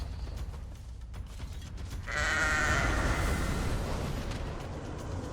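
Ghostly goat bleating in The Elder Scrolls Online, a sustained wavering cry rising suddenly after a couple of seconds of ambient game noise and continuing fairly loud over a low rumbling background.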